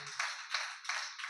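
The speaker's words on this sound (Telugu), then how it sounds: "ఒకసారి చప్పట్లు కొట్టి దేవుని కనపడదామా?" Church congregation clapping their hands together during a pastor's sermon, sounding as four bursts of applause in quick succession, moderately loud and reverberant, with no one speaking over it.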